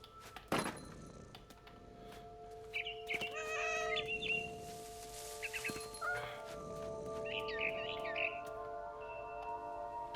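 A cat in the video game What Remains of Edith Finch meows several times in short, tonal calls spread across quiet game ambience, fairly faint, with a sharp thump near the start.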